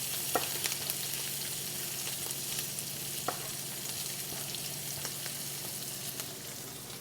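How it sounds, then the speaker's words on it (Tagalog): Garlic sautéing with pork in a pan gives a steady close sizzle, with occasional scrapes and clicks of stirring and no talk. "Gisa lang natin sa ating pork."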